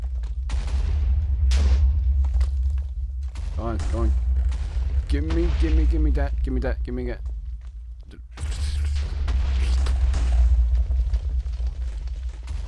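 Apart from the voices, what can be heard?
pirate ship cannons firing in Minecraft video game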